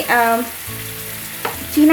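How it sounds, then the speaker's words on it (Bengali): Oil sizzles steadily as ginger-garlic paste fries in a pan, with a few stirring scrapes and some tonal sounds in the background. "আদা বাটা এবং রসুন বাটাটা একটু কষানোর জন্য ভাজার জন্য"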